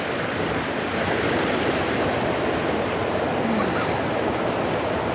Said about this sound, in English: So I have the water coming down here